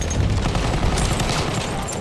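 Light machine gun in Battlefield 1 firing in a wooded area, a dense, loud, unbroken burst of rapid shots filling the whole stretch.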